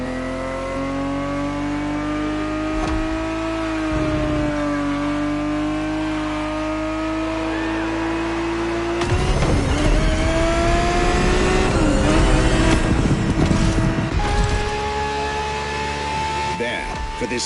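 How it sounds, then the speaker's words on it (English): Ferrari 365 GTB4 engine in The Crew Motorfest, a steady sustained engine drone with shifting pitch, rising louder and rougher around the middle as it revs harder before settling back. "365 GTB4 is the perfect vehicle for you to experience Ferrari racing as it felt back in the 70s"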